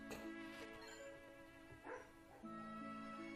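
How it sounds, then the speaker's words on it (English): A sleeping dog whimpering while dreaming, soft yips and a faint whine rising over a quiet game-music background, brief and fairly close. "I think my dog's asleep and dreaming."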